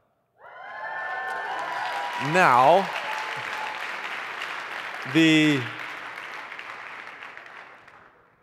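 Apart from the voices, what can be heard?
church congregation cheering and applauding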